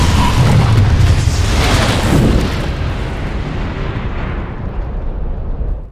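A heavy film explosion booms loudly up front, a broad roaring blast that rumbles on and slowly decays into a fading tail over several seconds.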